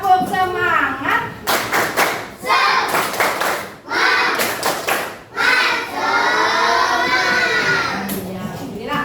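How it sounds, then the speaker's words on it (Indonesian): A class of children claps a rhythmic spirit clap in a classroom, led by a female teacher, with sharp bursts of clapping broken by short pauses and children's chanting voices mixed throughout. "Tepuk semangat."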